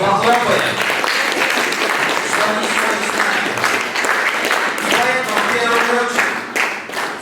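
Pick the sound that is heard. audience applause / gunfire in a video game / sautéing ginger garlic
audience applause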